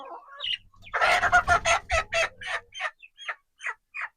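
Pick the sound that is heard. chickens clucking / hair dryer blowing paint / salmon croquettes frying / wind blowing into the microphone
chickens clucking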